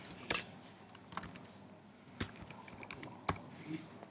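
Computer keyboard keys are typed in an Excel session in irregular short bursts of quiet, close clicks with pauses between, under faint room background.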